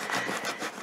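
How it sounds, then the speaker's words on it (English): Close, rhythmic back-and-forth rasping as fabric scissors saw through strong tape in quick strokes. "I'm using it like a saw."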